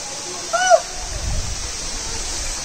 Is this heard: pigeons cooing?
no